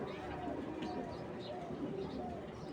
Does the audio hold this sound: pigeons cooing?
yes